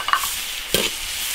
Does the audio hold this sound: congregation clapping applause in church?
no